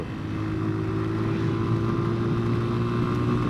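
A small-displacement motorcycle engine revs high and steadily while riding on a journey through Yemen, a continuous buzzing drone with strong harmonics and no talking over it.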